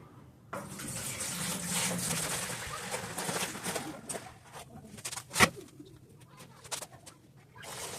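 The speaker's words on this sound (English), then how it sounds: "I'm just going to add 3 to 4 gallons to the bucket." Water pours steadily into a bucket during tankless water heater maintenance, a continuous close splashing stream with a sharp knock partway through.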